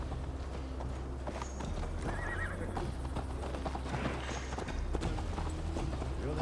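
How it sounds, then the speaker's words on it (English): Horses gallop in Assassin's Creed Valhalla, their hooves clip-clopping in a steady rhythm along with whinnies over continuous game ambience and music. "Mount up, Eivor. It's a long ride to Tamworth"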